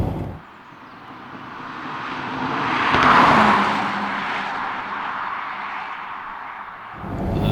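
An Aston Martin DB7 with its gearbox in sport mode is driven, giving a steady, loud engine and road roar that swells to a peak midway and then settles.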